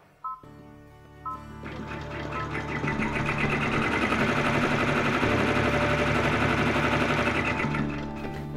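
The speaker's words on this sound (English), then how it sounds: "it has stitched the placement stitch for your first fabric" An embroidery sewing machine stitches a placement stitch on fabric for a quilted appliqué letter, a few short clicks first, then a fast, even, continuous mechanical chatter close by that runs for several seconds before easing off.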